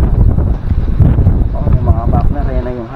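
Strong typhoon wind roars close and loud, a dense steady rumble with gusty swells, while a person talks over it throughout.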